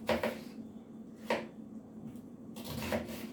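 Knife cutting through sausages on a board, a few distinct chopping strokes spaced out, close and fairly quiet with a faint steady hum underneath.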